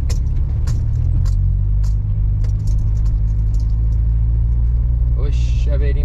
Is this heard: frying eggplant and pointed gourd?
no